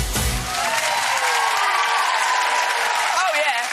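A studio audience on a Christmas entertainment show claps and cheers continuously, a thick wash of applause at steady loudness while a presenter's voice talks over it.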